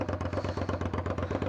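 A Suzuki SV650S V-twin with a Delkevic 200mm stubby exhaust runs loud and close at around 3,000 rpm, a steady throbbing pulse with rapid rhythmic exhaust beats and no talk.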